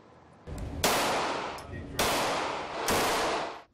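Three loud gunshots at an outdoor shooting range in Somerville, near Charleston, each a sharp blast with a long decaying echo, spaced roughly a second apart.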